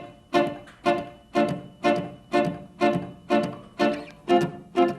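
Electric guitar chords in a jump-jive swing style, strummed only on the upbeats: ten short, even chord stabs with crisp attacks and quick decays, close and alone with no voices.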